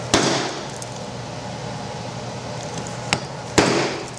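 A very sharp chisel is driven into wood to cut a dovetail pin for a Shaker candle box, giving three sharp, close knocks spaced irregularly against a low background hiss.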